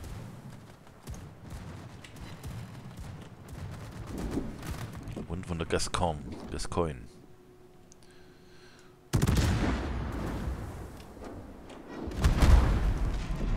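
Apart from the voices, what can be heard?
naval gunfire shots in video game World of Warships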